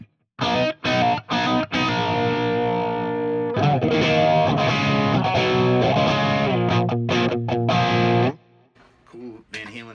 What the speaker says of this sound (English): The phaser.